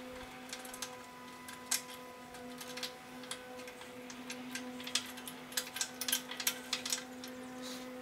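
Bolt on a winch plate for a Jeep Wrangler JK Unlimited Rubicon with factory bumper being tightened by hand, giving a run of small clicking and ratcheting ticks at close range over a steady mechanical hum, with no talk.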